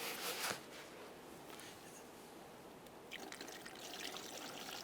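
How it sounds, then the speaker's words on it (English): Coolant trickling through a funnel into the radiator overflow tank of a 1995-2001 Ford, a soft steady pour that thickens into a brighter, splashier flow near the end, close and with no talk. "I'm going to use the appropriate coolant recommended for this model vehicle."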